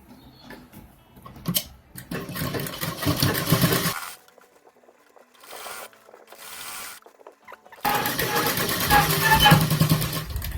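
Sewing machine stitching a gharara dress, bursts of rapid mechanical whirring and patter that stop and restart, with a quiet pause in the middle and louder continuous stitching at the end.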